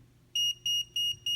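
A Tumi power bank sounds its Find Me alert: four evenly spaced, bright electronic beeps, each lasting about a fifth of a second, clear and close over a quiet room hum with no talking.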